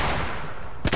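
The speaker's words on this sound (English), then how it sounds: "That was me shooting the sniper" Sniper rifle fired in a video game, one sharp loud crack that comes near the end after a dense wash of game noise.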